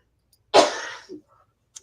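A single harsh cough bursts out at close range, followed by a short softer catch of breath and a faint click near the end, with no talk around it.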